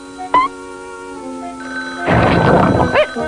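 A telephone bell rings in short bursts indoors, with a brief trill near the start and a louder ringing burst toward the end, amid quiet room sounds.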